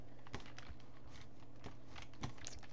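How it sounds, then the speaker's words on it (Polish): A short burst of clicks on a computer keyboard while a command is entered in a Minecraft server chat, a few soft scattered keystrokes spaced unevenly, faint and close, with no talking. "wpisujemy ukośnik Maji i klikamy Enter"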